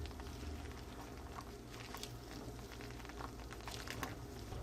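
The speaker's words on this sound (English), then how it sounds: "Gonna give it a bit of a mix here." Spicy Cajun peanuts simmer in a pot of boiling water while being stirred, a soft continuous bubbling patter with faint scraping, heard alone and quiet.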